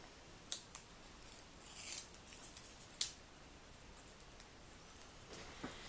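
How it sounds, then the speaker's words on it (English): Scissors cut paper for a gingerbread house Christmas card, giving a few sharp close snips and a short rustling cut amid quiet handling sounds, with no talking. "And I also cut out a little zigzag strip here of that same paper."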